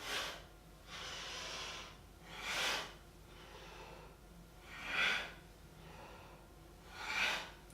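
Slow, deep breaths during a yoga session, a quiet, close rhythm of airy inhales and exhales repeating every couple of seconds with no speech.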